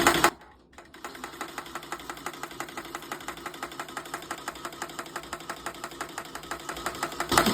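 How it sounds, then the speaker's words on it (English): A sewing machine winds a bobbin with the pedal pressed, giving a steady, fast mechanical whir with regular ticking pulses that runs nearly the whole time after a brief pause at the start. "we're going to engage this, hold the thread, and we're going to start by pushing on the pedal"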